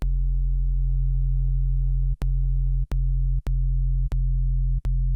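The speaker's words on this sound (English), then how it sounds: "The solution to this is to like add harmonics to your sub" A deep, steady synth sub bass tone with added harmonics drones continuously at a loud level, broken by a few sharp clicks and brief dropouts, with faint higher textures flickering above it.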